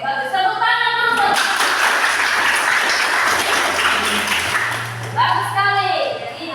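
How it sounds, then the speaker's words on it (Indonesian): Students in a classroom break into loud applause, a dense burst of clapping lasting about four seconds, with speech before and after it. "Tepuk tangan dulu"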